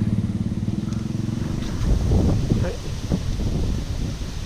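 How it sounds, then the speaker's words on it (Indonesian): Strong wind buffeting the microphone outdoors during a fishing outing, a loud rumbling roar with gusty bursts and a rhythmic low engine-like pulsing early on. "Anginnya mantap betul."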